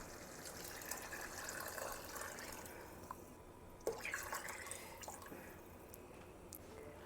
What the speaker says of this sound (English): Okay, add water.